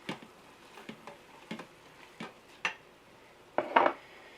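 Minced garlic and chili ingredients for beef and bean chili are stirred in a pressure cooker pot: a string of light, close utensil clinks and scrapes, ending in a louder, longer scrape.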